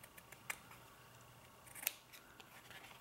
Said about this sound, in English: let's go ahead and trim this side